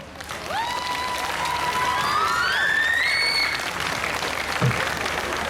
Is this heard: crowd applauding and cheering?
yes